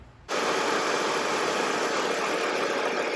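A BMW engine starts with an abrupt onset after brief quiet, then settles into a loud, steady idle with a constant mechanical hum, close by and with no talking over it.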